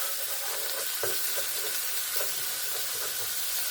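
Food fries in butter in a cast iron skillet with a steady, dense sizzle and hiss, close and continuous, with occasional faint scrapes.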